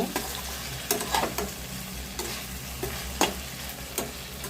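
Brinjal (small eggplant) frying in oil in a pan for a curry, a steady low sizzle broken by a few sharp scrapes and clacks of stirring, close and fairly quiet, with no talking.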